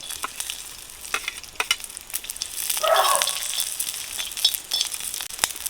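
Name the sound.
frying garlic and spices in oil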